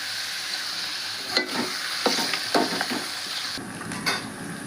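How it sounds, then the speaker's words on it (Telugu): Mushrooms sizzle and fry steadily in a hot pan of oil for a curry, with a spoon scraping and stirring in several short strokes over the constant hiss. "నేను మష్రూమ్స్ వేస్తున్నాను."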